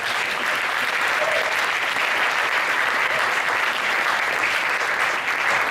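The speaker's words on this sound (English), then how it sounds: "Round of applause" An audience applauds at a Day of the Dead 2015 conversation event featuring Diego Luna and Camilo Lara. A dense, even wash of clapping holds steady from start to finish and fills the room.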